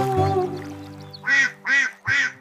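An animated cartoon duck in a Bangla children's nursery rhyme gives three loud, evenly spaced quacks, following a short stretch of music.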